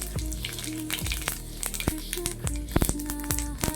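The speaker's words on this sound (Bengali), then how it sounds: "ওই মাছ ভাজা তেলে আমি ফোড়নে দিয়ে দেব একবারেই করছি ফোড়নে দিয়ে দেব শুকনো লঙ্কা আর গোটা জিরে" Dried red chilies and whole cumin seeds crackle in oil left from frying fish, a close, busy sizzle with frequent sharp pops, while soft music plays in the background.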